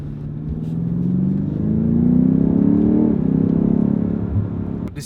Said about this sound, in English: Let's just put the exhaust on.